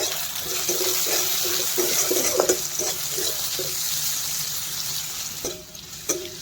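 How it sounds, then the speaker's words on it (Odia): Onions frying in hot oil after a dry red chilli tempering, a steady hiss of sizzling with soft stirring clatters throughout, no voices. "ପିଆଜ ଟିକେ ଭାଜି ହେଇଗଲାଣି।"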